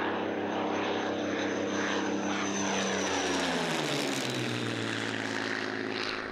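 A Supermarine Spitfire Mark II, a Battle of Britain survivor, roars steadily with a loud piston propeller engine, its pitch sliding lower midway as the aircraft passes close by, with no voices.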